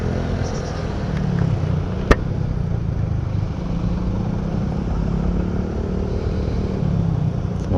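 Rush-hour street traffic in Olongapo City near a Caltex station, where jeeps jostle for passengers. A steady, close rumble of car and motorcycle engines runs throughout, with one sharp clack partway through.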